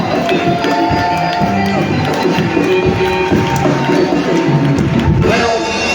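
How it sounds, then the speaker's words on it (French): A church congregation acclaiming and cheering with shouts of joy during a service, a loud, continuous swell of crowd voices and cries with music and clapping underneath, sustained throughout. "Acclame pour ça le cri de joie."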